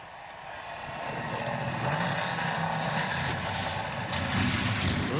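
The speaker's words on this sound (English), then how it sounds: "Drivers, start your engines." NASCAR Xfinity Series race cars fire their engines together at the start of the Ag-Pro 300, a broad swelling roar and rumble that builds and holds steady under a crowd-like wash.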